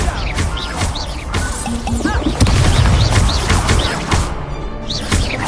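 Incendio fire spell cast in Hogwarts Legacy, a loud whooshing blast and crackling burst amid a busy combat mix of impacts, magic effects and music.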